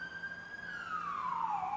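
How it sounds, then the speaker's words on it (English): A city emergency siren wailing in the distance, one long tone that holds steady and then slides downward, faint but clear above a low hum of urban background. "Sirens are starting already."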